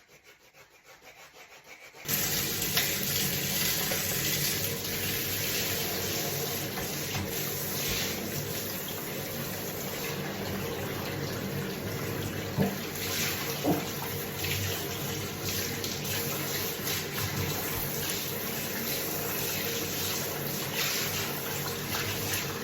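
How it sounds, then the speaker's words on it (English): Steady, loud stream of water running in a bathtub while feet are rinsed, a dense continuous rush that starts after a brief quieter moment and keeps going unbroken. "I always rinse the bottom of my tub with really hot water."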